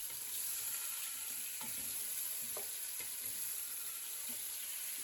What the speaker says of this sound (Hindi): 1 किलो हमने बीफ का गोश्त लिया है। 5 मिनट हम इसे फ्राई करेंगे।